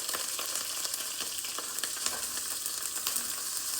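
Fresh broccoli sizzles in a hot pan, a steady bright frying hiss with small crackles and pops, close and fairly loud, with no voices.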